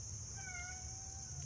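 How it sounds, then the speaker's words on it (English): A pet cat meows indoors, a few faint, drawn-out, rising calls over a steady background hum. "You hear the kitty cat? She's happy I'm home."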